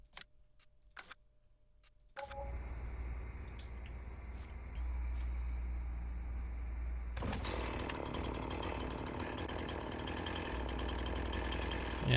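A chainsaw in the video game Farming Simulator 19 starts after a few quiet clicks and then runs for about ten seconds. Its steady engine drone gets louder and rougher partway through, with no talking.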